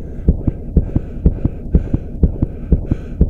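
A muffled heartbeat sound effect thuds in a steady, slow double-beat rhythm over a low continuous hum, about seven paired thumps in a little over three seconds, heavy, close and dull.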